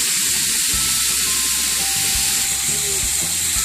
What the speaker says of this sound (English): now that our chops are on the grill